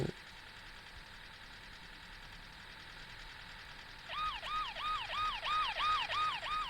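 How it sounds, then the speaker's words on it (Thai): Police car siren in the Roblox Brookhaven game, a rapid electronic yelp of repeated rising-and-falling sweeps that kicks in partway through over quiet game ambience, getting louder toward the end with no talk. "อีกคันก็จะเป็นรถตำรวจนะครับ"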